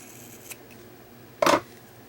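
Scissors snip the end off a tube of paint in one quick, crisp, close cut, preceded by a faint tick in an otherwise quiet space.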